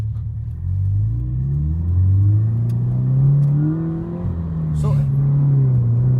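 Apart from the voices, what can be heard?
Subaru BRZ accelerating from stop sign in Sport mode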